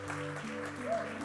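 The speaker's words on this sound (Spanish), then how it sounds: "Dense un aplauso a ustedes por ser valientes y quedarse." Applause from a church congregation, a steady wash of clapping with a sustained tonal hum and a faint voice underneath.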